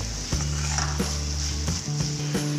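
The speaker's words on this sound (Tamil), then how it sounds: "நல்ல காரமாக வேணுன்னா மிளகாத்தூளும் சேர்த்துக்கோங்க, பெப்பரும் சேர்த்துக்கோங்க. நல்லா கிளறி விட்டுக்கோங்க." Egg masala with chili powder and pepper sizzling in a pan on low heat while being stirred, a steady close hiss with a few soft scraping stirs, no voices.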